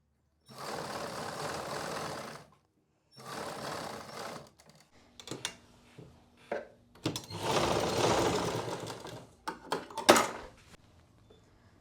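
Sewing machine stitching a side pocket onto trousers, running in long close bursts with short pauses and a few brief stop-start runs between, loud and steady, with no talk over it.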